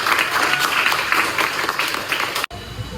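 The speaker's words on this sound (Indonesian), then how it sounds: "kita berikan aplaus kepada teman" Classroom applause for a student's answer in a nursing class, steady dense clapping from a group that cuts off abruptly, followed by quiet room tone.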